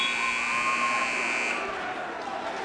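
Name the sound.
buzzer at a varsity wrestling match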